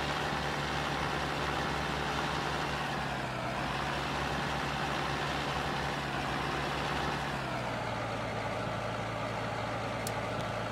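A tractor engine in Farming Simulator 15 runs continuously, a steady loud drone with a slight pitch shift partway through, with no talking.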